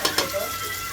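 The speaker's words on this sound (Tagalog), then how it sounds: "Gigisa tayo. Sibuyas. Onion na white gamit ko." White onion sautés in butter in a pan, with a steady close sizzle and two quick scrapes of stirring at the start.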